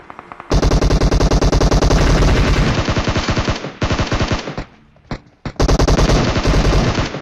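Automatic gunfire in a shooting video game, long rapid bursts of loud, close shots broken by a few brief pauses, then another sustained burst.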